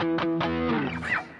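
An electric guitar on the bridge pickup plays through heavy distortion. It gives a short phrase of sustained, buzzy notes with bends near the end, up close and with no talking.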